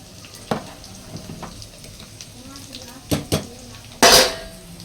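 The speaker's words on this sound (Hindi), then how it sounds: "इसको हम अच्छे से फ्राई होने देते हैं।" Onions fry in a pan with a low sizzle under a few scattered spoon taps and metal clinks, ending in a louder scrape against the pan; near and moderately loud.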